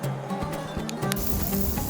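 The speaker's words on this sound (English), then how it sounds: "You can hear that yummy sizzle." Garlic shrimp skewers sizzling on a barbecue grill outdoors, a steady broadband hiss with crackling bursts that carries through the whole moment at moderate volume.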